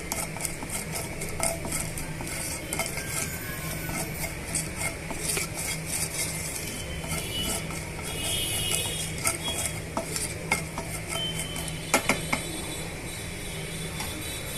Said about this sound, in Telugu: అవన్నీ కూడా ఈ ఆయిల్లో వేస్తున్నాను ఈ ఆయిల్లో వేసిన తర్వాత బాగా వేయించేసుకుందామండి